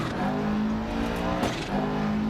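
A rally car in Dirt Rally 2.0 on an Australian stage, engine revving loudly and steadily close up as it swings through a handbrake turn, with a brief scrabbling burst of tires midway.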